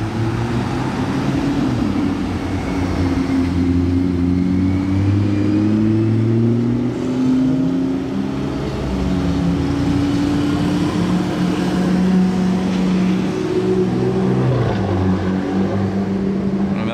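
McLaren P1 hypercar in race mode, driven by an English rally driver, passing by with a loud, sustained engine drone that shifts in pitch as it goes, near and continuous.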